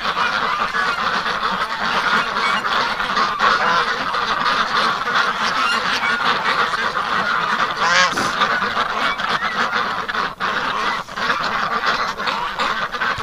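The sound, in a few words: ducks quacking in the snow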